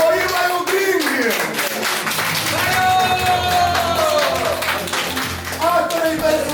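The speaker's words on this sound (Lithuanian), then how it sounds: "Plojimai audringi!" Loud, sustained clapping from a wedding crowd fills the room without pause, with music and voices threaded through the applause.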